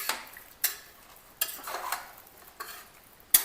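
Spoon stirring coriander leaves into chicken biryani in a cooker pot, with several separate scraping strokes and clinks against the metal spread across a few seconds, close by and fairly soft, no voices.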